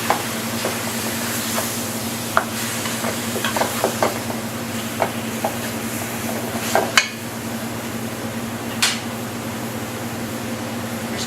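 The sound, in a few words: stirring beef stew in a pot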